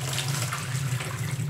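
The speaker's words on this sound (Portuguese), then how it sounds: "Eu tô colocando aqui, ó, 1 litro de água morna" A steady stream of warm water, about one litre, poured for a bleach mix, running continuously with a low rushing splash and no break.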